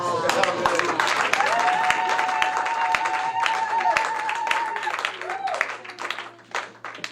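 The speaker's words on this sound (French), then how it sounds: "Est-ce qu'on peut acclamer?" A church congregation applauding during a Sunday service, steady clapping filling the room for several seconds over a sustained tone and a voice, fading toward the end.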